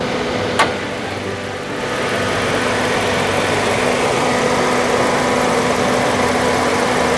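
A blue 2008 Toyota Yaris with its 1.5-litre 2NZ engine idles steadily, a constant low hum and vibration holding throughout after one brief click near the start, with no talking.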